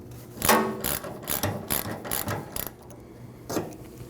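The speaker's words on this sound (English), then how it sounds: "Now you can tighten that rear strap down." A ratchet tightens the fuel tank strap bolts on a 2012-2021 Nissan NV2500 with the 5.6L V8, giving loud close bursts of rapid clicking repeated about six times with short pauses between.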